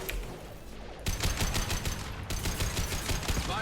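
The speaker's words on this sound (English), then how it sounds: "Firing a high impact shot." Sustained automatic gunfire from Mass Effect 2, loud and continuous, breaking off briefly after the first second and then resuming in dense rapid bursts.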